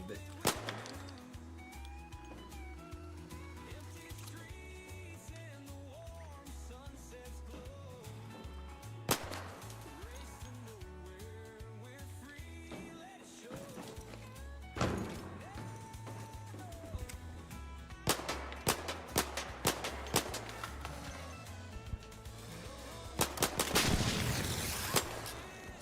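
Enemy explosions in the shooter game ARC Raiders, sharp bursts with a hiss cracking out over a looping music score and game effects, several loud hits clustered toward the end.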